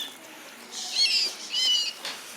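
A trapped bird flaps its wings in two short, close bursts of soft fluttering, with faint chirps and a quiet room background between them.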